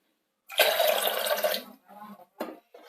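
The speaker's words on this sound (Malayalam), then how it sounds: "വെള്ളം അല്പം കൂടെ ഒഴിക്കാം." Water is splashed into lentils with turmeric in a pressure cooker for sambar, one strong pour of about a second followed by a few short splashes and trickles.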